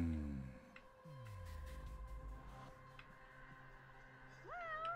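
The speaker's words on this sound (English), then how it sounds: "That's a cat around!" A cat meows inside a video game, a couple of short calls rising over steady game music and low tones, fairly close and clear, with no talking over it.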